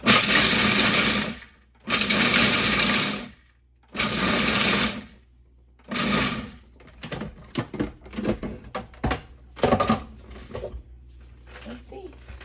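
A blender chopping nuts for overnight granola runs in four loud, close bursts of about a second and a half each, separated by short pauses, then gives way to a series of clattering knocks and taps.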